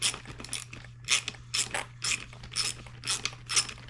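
A socket wrench with a 7 mm socket ratchets back and forth while tightening the nut on a Traxxas Hoss RC truck, producing close, rapid clicking bursts in a regular rhythm over a low steady hum.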